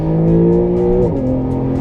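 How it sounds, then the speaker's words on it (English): A Porsche in Sport Plus mode accelerates hard on a track, its loud, steady engine note climbing, then dropping sharply as the transmission shifts gears midway before pulling again. "the car does an amazing job of gearing down for you, kicking it into the lower gears, keeping it in the gears as you're accelerating"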